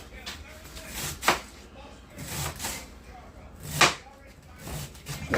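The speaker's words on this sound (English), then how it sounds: "Cut them in slices." A knife cuts through green cabbage on a cutting board in several crisp, uneven chops spaced about a second apart, close and fairly clear, amid faint kitchen background noise.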